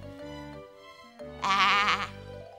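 A voice imitates a lamb's bleat in a long, wavering baa that rises into a louder, quavering middle, with a low tonal background underneath.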